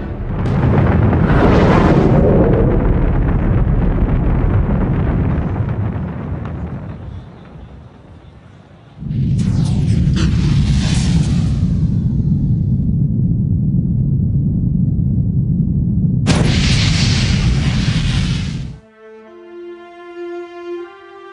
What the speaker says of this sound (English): the third stage engine boosted Apollo 11 out of Earth's orbit and on to a lunar trajectory